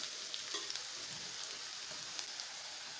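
Chopped ginger and garlic sizzling in hot oil in a kadai, a constant bright crackle with scattered small pops and faint stirring knocks, close and alone.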